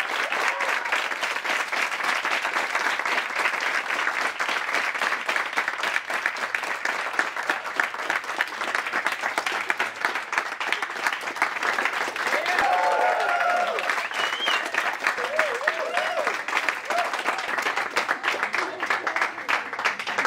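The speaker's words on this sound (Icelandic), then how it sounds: "Ég vildi bara byrja á því að fá klapp fyrir Starfsfólk Chicken Place" A crowd applauds the Chicken Place staff, dense steady clapping sustained loud and alone throughout.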